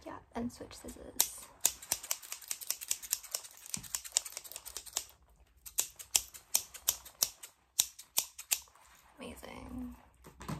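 Rapid, crisp snipping of scissors cutting hair up close, in quick irregular bursts with short pauses, and faint voices in the background.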